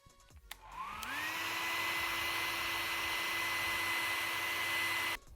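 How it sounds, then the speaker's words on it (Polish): A hair dryer warms the tape adhesive on a GTX 780 graphics card. It whirs up within the first second, then holds a steady, loud whining drone for about four seconds before cutting off. "użyję suszarki, żeby lekko ten klej podgrzać i może puści łatwiej"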